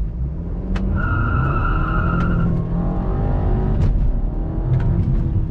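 A 2.0 turbo Audi A3 Sportback engine revving while held against the brake, a loud, close, sustained engine drone with brief sharp squeaks and clicks on top.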